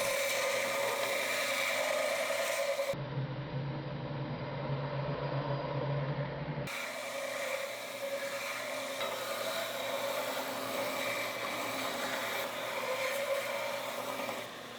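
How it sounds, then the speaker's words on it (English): A grinder working metal off the small ends of connecting rods from a Flathead Ford V8, a continuous close abrasive whir with a brief change in tone partway through. "We're going to start on the small end of the connecting rods and grind material off of the heaviest rods"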